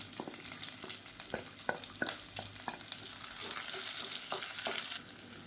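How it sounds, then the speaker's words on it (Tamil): Sliced onion sautéing with spices in a pan for Chettinad mutton kurma, a soft continuous sizzle with a few scraping stir strokes, fairly quiet and close, no voices. "வெங்காயம் கொஞ்சம் லேசாக வதங்கினதும்"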